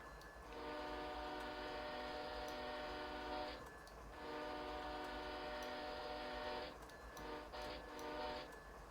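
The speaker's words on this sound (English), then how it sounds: "I don't know which button does the horn" Locomotive horn in Train Simulator 2020, two long sustained blasts of a loud chord, a third broken into short stuttering toots near the end, over a low rumbling engine bed.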